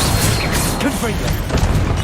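A Confringo fire spell in the game Hogwarts Legacy erupts in a dense, noisy burst of crackling blasts and rumbling booms that fill the short moment, loud and close.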